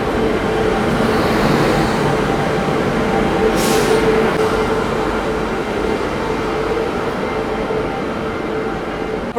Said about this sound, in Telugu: మనల్ని తీసుకెళ్ళబోయే నారాయణాద్రి ఎక్స్ప్రెస్ అయితే అరైవ్ అవుతుందండి ప్లాట్ఫామ్ నెంబర్ 2 మీదకి